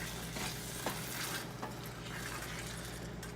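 Tomato sauce for stuffed peppers is stirred in a hot pan on medium-high heat, a steady sizzle and bubbling with a soft scraping of the spoon running throughout, close and continuous.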